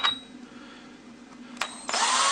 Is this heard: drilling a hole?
yes